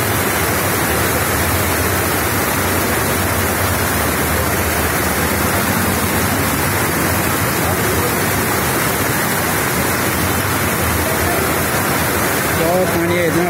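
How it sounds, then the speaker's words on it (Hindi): Very heavy rain pours continuously during a thunderstorm in Junagadh, Gujarat, with floodwater filling the streets, a dense, loud, steady roar from start to finish. "देखिए पूरा एकदम बहुत ही तेज है बारिश"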